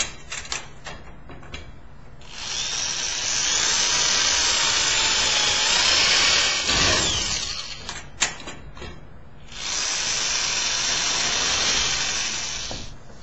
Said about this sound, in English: I'm just going to drill right through the holes.